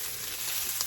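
Philly cheesesteak filling sautéing in a pan, about halfway cooked: a brief, steady, close sizzle with a soft hiss and no voices.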